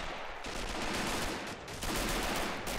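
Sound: machine gun firing in a video game

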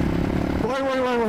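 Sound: supermoto motorcycle riding across a field

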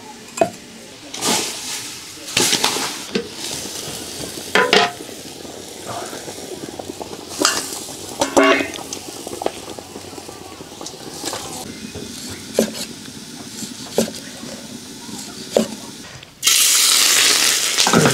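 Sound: frying twice-cooked pork in a pan

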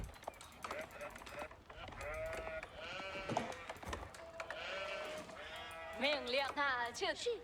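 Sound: sheep bleating in a video game

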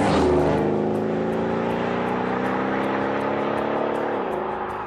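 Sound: Mercedes S63 AMG V8 engine, muffled sound in comfort mode

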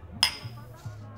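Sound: glasses clinking in a toast

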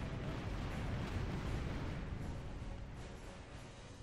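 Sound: cannon barrage on a fort wall in the video game Tempest

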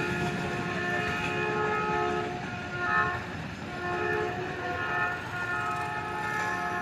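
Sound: Jaffar Express passenger train passing

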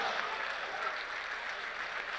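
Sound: audience applause for poet Hari Om in Dubai

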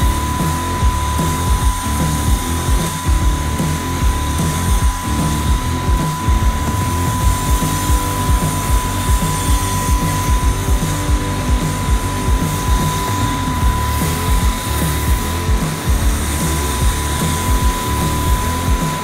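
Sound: pressure foam sprayer foaming down a trailer

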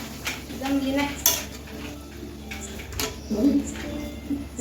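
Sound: stirring egg curry with a little water in a pot

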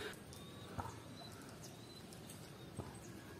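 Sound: birds flying and calling

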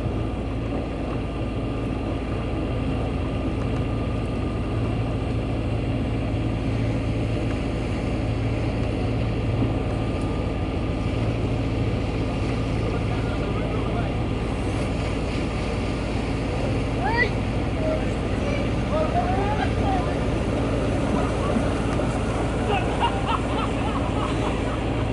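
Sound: boat engine while reversing

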